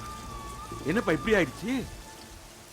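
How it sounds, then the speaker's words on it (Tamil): Steady rain falls as a constant soft hiss in the background while someone speaks briefly over it. "மழை விடாது போல இருக்கே சார்."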